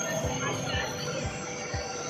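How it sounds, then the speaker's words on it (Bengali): A Bangalore metro train arrives at a station, its wheels thumping over rail joints in a steady rhythmic beat beneath a continuous rumble and hum. "আমাদের মেট্রো এসে পড়েছে"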